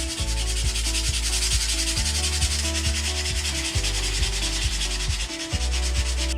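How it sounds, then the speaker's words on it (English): Sandpaper rubbed steadily over a Toyota FJ40 seat part, a loud continuous close-up abrasive rasp in rhythmic back-and-forth strokes with no voices. "Right, now we'll just sand it back and make it all smooth"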